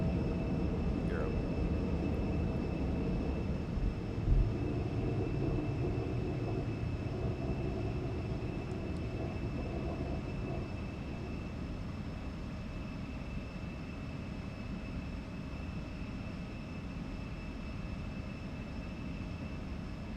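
An Embraer E-175 jet climbs after takeoff in X-Plane 12, a loud, steady engine roar with a broad rumble and a faint high whine holding constant throughout, with no voices.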